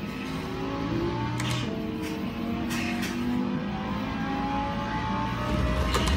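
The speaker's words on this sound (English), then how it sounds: "Really need those downshifts." Simulated car engine in Assetto Corsa, revving continuously and loudly with rising and falling pitch as it runs through downshifts, steady racing drone throughout.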